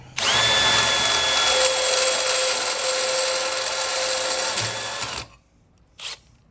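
A rotary burr bit spinning in a drill grinds a burr off metal in one loud, steady, high whine lasting about five seconds, then cuts off, with a brief faint buzz after.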